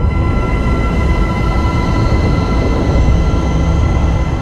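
A sonification of primordial sound waves from the early universe, pitched up to audible range: a steady, loud, dense low rumble with faint tonal hums layered above, continuous and unchanging throughout, with no voices.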